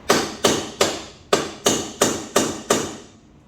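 A hammer pounds on a Lexus GS430 front suspension knuckle: eight sharp, ringing metallic blows at a steady, even pace, loud and close, with no talking.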